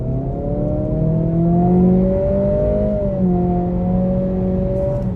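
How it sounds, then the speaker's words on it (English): A 2023 Acura Integra A-Spec with CVT accelerates in sport mode, its engine induction note a steady, smoothly rising drone heard from inside the cabin, loud and unbroken for several seconds with no talking. "we get a little bit more induction noise in sport"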